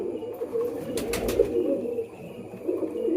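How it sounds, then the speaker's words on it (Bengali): A pigeon gives a low, soft cooing call nearby, with a brief rustle partway through. "এই কবুতরটা মানে মানুষ দেখলেও ডাকে"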